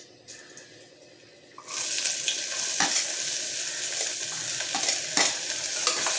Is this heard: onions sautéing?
yes